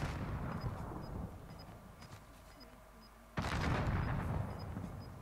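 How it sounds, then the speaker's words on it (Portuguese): Gunfire in Call of Duty Warzone with an M13 rifle build, a run of sharp shots at a distance followed by a louder, denser burst of firing near the end, with occasional voice chatter. "Os caras tá atirando lá"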